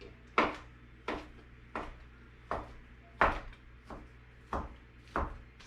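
A knife chops cooked turkey on a cutting board for a green bean casserole, giving eight sharp, evenly spaced chops about every seven-tenths of a second, close and crisp with no talk.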